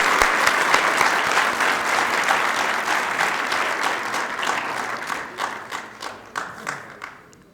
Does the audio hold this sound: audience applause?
yes